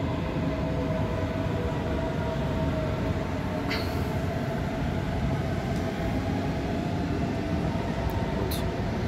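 A Munich S-Bahn S4 commuter train runs past at a station, a steady broad rumble of wheels and carriages holding for the whole stretch, fairly close, with a couple of faint brief squeals on top and no talking.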